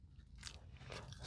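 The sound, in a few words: crunching while biting a hard fiber snack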